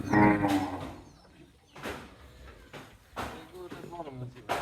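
Cattle in a Naogaon livestock setting moo several times, one long low call up close at the start followed by shorter lows, mixed with someone talking between them.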